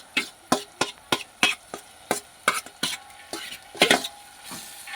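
Masala with chillies stirred in a pan for Gujarati fire-roasted baingan bharta: a spoon scrapes and knocks against the metal in a steady rhythm of about a dozen sharp strokes over a soft, low sizzle, close up and with no talking.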